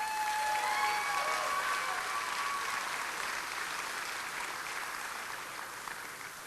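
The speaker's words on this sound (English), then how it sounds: "Give a round of applause for Sue here." A banquet audience applauds an alumna, the clapping starting full and then tapering gently toward the end, with a faint voice or two over the crowd.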